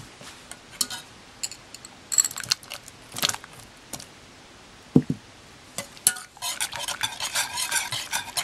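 Sweet chocolate being stirred in a pot for homemade popsicles, with irregular scraping and clinking of a spoon against the metal and a faint sizzle rising toward the end, with no talking.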